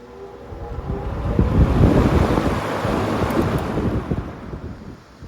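A BiltHard SFDC2-600T 24-inch floor fan with a slow-running motor starts up on its third setting, a close, rumbling whoosh of moving air that builds quickly and then holds steady, with no talk.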